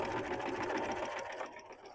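A sewing machine stitches along the edge of a zipper pouch, its motor whirring in a close, steady burst that eases off and stops near the end of the run.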